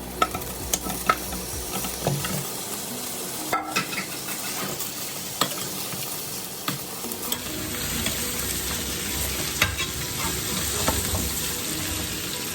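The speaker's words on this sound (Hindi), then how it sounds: "अब गोश्त को इसी ऑयल में दोबारा से डालेंगे। फ्राई तो हम पहले से कर चुके हैं, अब इसको बस मिक्स करना है हमें" Mutton pieces are stirred in hot oil in a pot, with a steady sizzle of frying under repeated clinks and scrapes of a spoon against metal, close and continuous for several seconds without talk.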